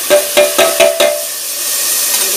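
Tomatoes drop into frying dal masala with a few quick, sharp bursts of sizzle that ring out one after another, then ease into a steady, moderately loud hiss of oil in the pan.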